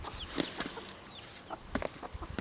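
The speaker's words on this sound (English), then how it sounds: "we're going to let the chickens out" Backyard chickens cluck in short, scattered bursts on a drizzly day, with a few faint high calls between them, fairly close and soft, with no voices.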